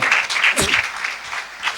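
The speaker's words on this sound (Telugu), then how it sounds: "నమ్మితే గట్టిగా చప్పట్లు కొట్టు." A church congregation at a Sunday service claps loudly together, a dense sustained burst of applause with a voice briefly rising through it.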